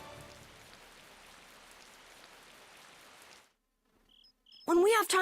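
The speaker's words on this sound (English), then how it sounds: "Okay, but it's raining." Steady rain falling in the video game Tales of Vesperia, a soft even hiss with faint insect-like chirping, which stops abruptly and is followed by a short burst of speech.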